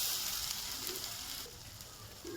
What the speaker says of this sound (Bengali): দিয়ে ভালো করে নেড়ে চেড়ে কষিয়ে নেবো